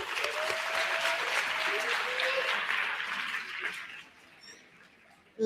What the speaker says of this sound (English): Let's give ma'am a nice round of applause.